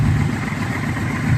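A 1996 Yamaha Royal Star motorcycle idles nearby with a steady low, throbbing engine rumble, even and unbroken, with no voices.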